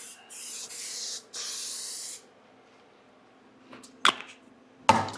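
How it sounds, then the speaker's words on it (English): Three short hissing bursts of cooking spray on the racks of a Pit Boss Navigator vertical smoker, close up, followed by a quiet pause and a couple of sharp clicks or taps. "So just going to go through, give them a quick spray."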